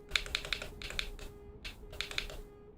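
Loud clicky buttons on a racing wheel controller, pressed in quick bursts of sharp clicks, several in a row, a brief pause, then more, close and crisp over a faint hum.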